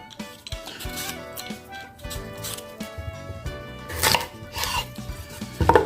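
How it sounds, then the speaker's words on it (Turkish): Beetroot skin being peeled with a knife by gloved hands, giving soft scraping and rustling strokes with a few sharper clicks, close and irregular, with faint music in the background. "Dostlar pancarla başlıyorum. Önce bir kabuklarını soyuyorum."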